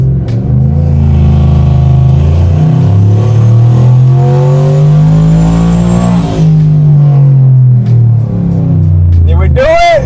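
Single-turbo truck engine roaring on a dyno during a final full-power pull, a loud sustained harmonic drone rising and falling in pitch before ending with a sharp high whine at the close.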